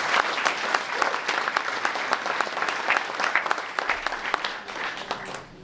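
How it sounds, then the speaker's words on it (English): An audience at a panel event gives a sustained burst of applause, dense clapping that holds steady and then tapers off slightly at the end. "let's give a round of applause to our panelists"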